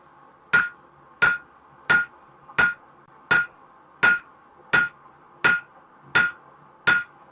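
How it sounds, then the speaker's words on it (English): Hammer blows forging hot steel for a gardening trowel, ten sharp ringing metallic strikes at an even steady rhythm, close and loud with no talk. "Little bit of forging, make it a tiny bit skinnier."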